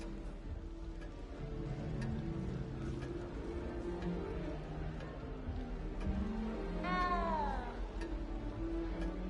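A cat in a video game gives a single drawn-out meow near the end, heard over a low game ambience with no talking.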